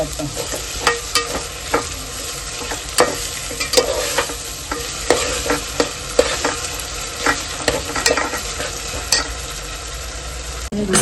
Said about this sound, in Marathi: अद्रक लसूणची पेस्ट ती पण चांगली आपल्याला शिजून घ्यायची